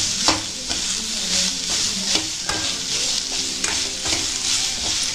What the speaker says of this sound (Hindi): ये लौकी को हमने इसमें पूरा, ये आधी लौकी थी इसको काट धोकर के काट लिया था और इसको डायरेक्ट उसमें डाल करके भून लेते हैं